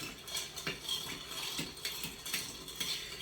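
A spoon stirs cream into a cold lavender latte, giving soft repeated clinks against the glass in a loose, steady rhythm, faint and close, with no speech.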